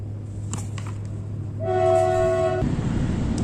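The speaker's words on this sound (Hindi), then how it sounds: "ट्रेन के साउंड को आप इग्नोर कीजिए, पास में ही स्टेशन है" A train passing near a station sounds one loud, steady horn blast lasting about a second over a low rumble of rolling cars, close by.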